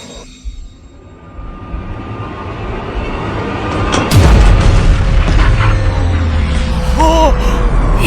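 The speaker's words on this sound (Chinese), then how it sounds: "传令下去，坦克开火，给我轰了他！" A tank cannon fires in a drama battle scene: a deep, loud boom swells into a long rumbling roar that fills the rest of the scene, with brief voice sounds and a short tonal note near the end.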